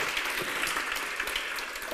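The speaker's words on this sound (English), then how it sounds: "so maybe we can clap for you right now" A small audience claps steadily for a musician after her song, dense even applause close by with no voices over it.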